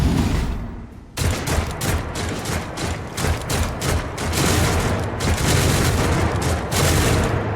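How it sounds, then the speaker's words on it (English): An automated defense turret opening fire on the player in Warhammer 40k Rogue Trader: after a brief quiet moment, a loud, sustained barrage of rapid, rhythmic gunshots kicks in and continues without letup. "This turret is a bad shot at me."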